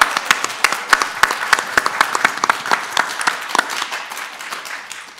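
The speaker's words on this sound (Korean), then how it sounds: "이 정도에서 박수 치면 좋겠는데요." Applause from an audience at a religious leaders' political assembly on impeachment held at the National Assembly, dense clapping with sharp individual claps standing out, steady then thinning slightly toward the end.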